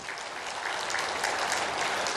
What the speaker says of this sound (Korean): 요셉을 위해서 한 박수 한번 쳐줘봐